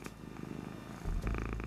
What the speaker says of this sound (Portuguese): Todo gato ronrona, alguns mais e outros menos.